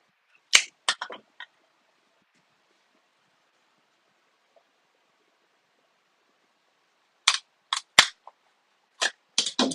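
A chisel strikes a log to strip bark while bowl blanks are prepared, giving sharp, loud cracking hits: a quick cluster of four or five near the start, then a long quiet gap, then another fast run of impacts at the end.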